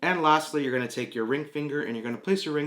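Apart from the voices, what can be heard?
No everyday noise stands out behind the speech.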